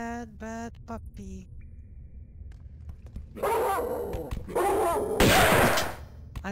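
A dog in the Tomb Raider 2 video game barks and yips in several sharp bursts, loud and close, after a few short game sounds and partly mixed with someone talking.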